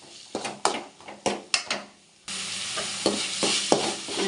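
Onions sautéing with salt in a pan for a country chicken curry, with a spatula scraping and stirring in several quick strokes, then a steady, close sizzle of frying taking over.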